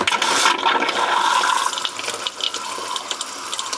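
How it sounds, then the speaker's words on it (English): A Thetford cassette toilet in a Winnebago Revel RV flushes with a loud, close rush of gushing water that runs steadily throughout, tapering slightly toward the end with small splashes. "I'm going to go back and actually flush my commode"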